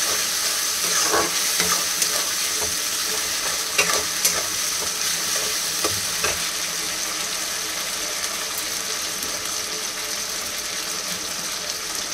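Ginger, garlic and tomato fry in a pot for restaurant-style mutton curry, a dense continuous sizzle with steady stirring and occasional scraping clicks, loud and close throughout, no voices.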